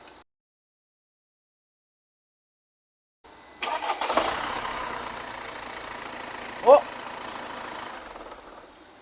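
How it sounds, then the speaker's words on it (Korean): A Mercedes-Benz E220 with a sudden no-start fault cranks after a stretch of silence, catches and settles into a steady close idle, with a brief voice over the running engine. "한번 시동 걸어볼게요"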